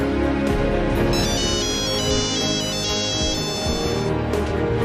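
A phone rings steadily and loudly with a repeating electronic ringtone melody over dense background music, the caller trying again and again, with no talk over it.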